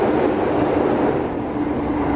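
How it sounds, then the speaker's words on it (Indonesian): A fuel train hauling ballast wagons rumbles past close by near a station, a loud steady roar of wheels and wagons with no speech. "KA BBM membawa gerbong balas di sebelah"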